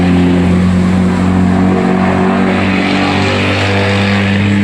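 A manual Toyota Yaris with a 1500cc VVT-i engine drones steadily and loudly with a low, constant hum, slight swells suggesting revving, with road noise throughout and no speech.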